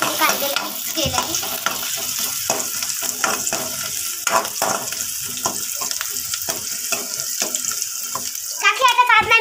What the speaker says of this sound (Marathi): आता ती मिक्स करते त्या कांद्याला